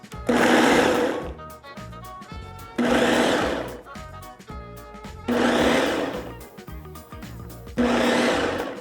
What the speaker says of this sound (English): Make sure to put them in a food processor or a blender will work. Let's do a chop.